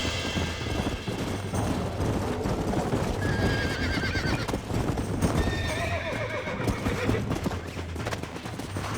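Rapid, steady hoofbeats of a galloping horse in Red Dead Redemption fill the clip, loud and close, with a couple of whinnies rising over the rhythmic pounding.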